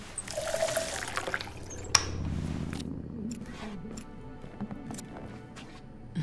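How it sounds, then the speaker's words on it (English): Water pours and trickles onto a flower in the game Twelve Minutes, a soft liquid splash followed by a light dribble and scattered drips, faint and close in an otherwise quiet room. "just make sure to water the flower and kill yourself 5 times"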